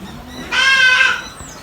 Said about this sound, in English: we have a very nice boar ram here, very active and lively